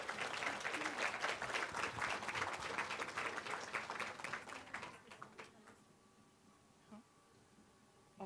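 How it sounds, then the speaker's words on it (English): An audience claps steadily and warmly at a nursing white coat ceremony for a BSN cohort, the dense applause tapering off near the end, with a faint voice underneath. "Please give them a round of applause as they come up."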